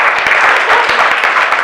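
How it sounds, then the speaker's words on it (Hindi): Children in a school classroom give a dense burst of applause, loud and close, and it goes on without a break. "इन बच्चों के लिए तालियां बजाएं जो"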